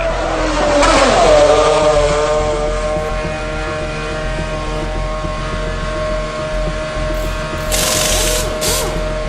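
A Formula 1 race car arrives at a pit stop with a high engine whine and a pitch sweep as it slows, then a steady idling drone, followed by brief bursts of air-gun-like hiss near the end.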